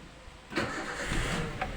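A Toyota Avanza engine cranks and catches after a long starter crank, the brief starter whir giving way to the engine firing up and settling into a steady idle nearby.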